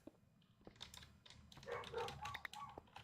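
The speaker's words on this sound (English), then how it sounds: "My dog is barking at something and I'm not sure what." A pet dog barks at something unseen outside, a run of sharp, moderately close barks clustering in the second half amid faint room noise, with keyboard-like clicks mixed in.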